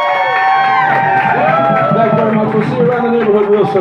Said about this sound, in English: How about a round of applause for this wonderful work and hard working band?